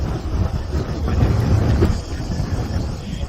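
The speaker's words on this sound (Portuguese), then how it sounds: "Felizmente tá dando uma rajada de vento até maior do que eu creio que o habitual." A strong gust of wind buffets the microphone on a hilltop overlooking Athens, producing a loud, continuous rumbling roar that swells and fades over a few seconds.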